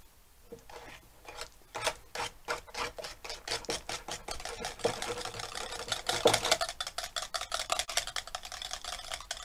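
Homemade mayonnaise is mixed in a bowl as a little lemon juice is worked in, giving a rapid, steady clatter of whisking strokes close by, quiet at first and then busier.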